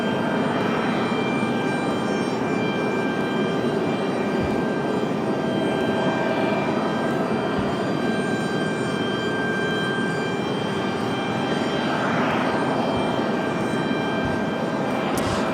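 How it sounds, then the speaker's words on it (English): A PSA CRJ 900LR regional jet arrives at Raleigh Durham airport, its engines producing a loud, continuous roar with a steady high whine that swells and fades slightly over about fifteen seconds. "PSA coming in from Philadelphia for the little CRJ 900LR here"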